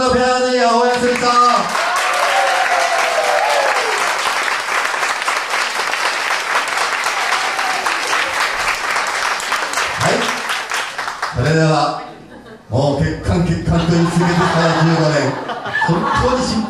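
A crowd at a salsa pair competition final claps and cheers loudly and continuously for a dance pair, with some laughter mixed in. Voices and music cut in near the end.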